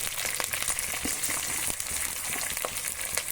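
Onion frying in a pan with urad dal, chilies and curry leaves for millet upma, a continuous close sizzle broken by scattered clicks and scrapes of stirring.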